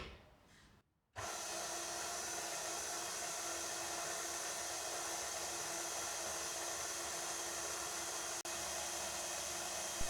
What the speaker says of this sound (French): Utilisez le crochet pétrisseur de votre robot, puis lancez le robot à vitesse lente pour commencer à mélanger les ingrédients.